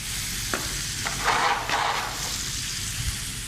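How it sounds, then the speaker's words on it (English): Pan being deglazed while cooking pasta, a steady close sizzle with brief stirring scrapes and bursts of hissing, no talk. "we're getting that deglazing effect you mentioned prior"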